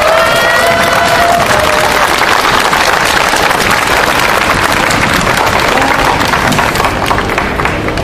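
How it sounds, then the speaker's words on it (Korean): An outdoor Catholic protest mass crowd applauds nuns in a sustained burst of loud clapping and cheering, dense and continuous, with a few scattered shouts over the applause. "그래서 우리 수녀님들 박수 한번 부탁드립니다."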